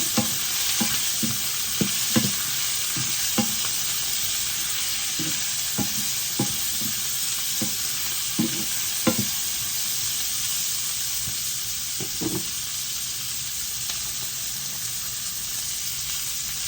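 Onions and fenugreek seeds frying in a pan, a continuous hiss of sizzling oil punctuated by a regular run of spoon stirs and scrapes, close and steady with no voices.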